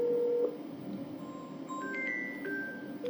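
A WhatsApp call rings on a phone as a thin electronic tone over a low, steady hum, moderately faint, with brief tonal beeps shifting pitch and no voices.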